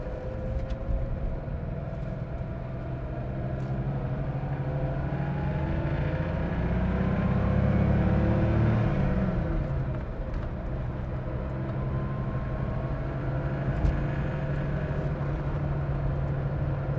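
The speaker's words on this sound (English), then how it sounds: "Clutches are coming out. Here we go. Light accelerator pressure." A red 1979 Porsche 911 (930) Turbo pulling away under light throttle and driving on, its engine a steady low drone that swells midway as revs rise, then settles into cruising with tire and road noise.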